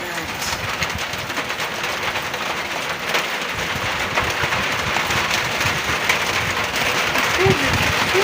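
Heavy rain pours down on an unexpectedly stormy afternoon, a loud, steady hiss with dense spattering on surfaces that carries on unbroken throughout.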